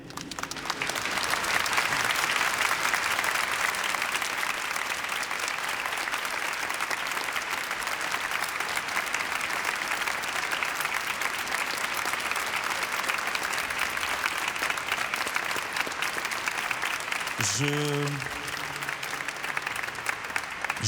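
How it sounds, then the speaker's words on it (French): An audience at a prayer vigil applauds its speakers with sustained, dense clapping that runs loud and steady for many seconds before tapering slightly near the end, when a brief tonal sound cuts through. "Je pense qu'on peut les applaudir."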